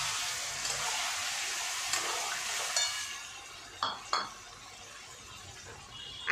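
Ground spice paste stirred into potatoes and onions frying in a pan, with a soft continuous sizzle and a few sharp clinks and scrapes of a spoon against the pan.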